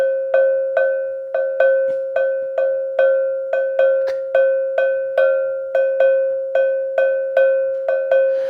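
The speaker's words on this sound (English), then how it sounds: "Let me quickly demonstrate the Palungo Rhythm, which Ayo referred to in that documentary" A cowbell plays the Palungo rhythm, the five-beat Afrobeats pattern, as a steady repeating loop of bright metallic strikes. It is clear and alone, with no voices or other instruments.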